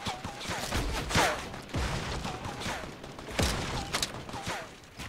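Gunfire in the video game Fortnite, a steady stream of rapid shots with a few whizzing tones, moderately loud and continuous over game ambience, with a player's voice talking intermittently.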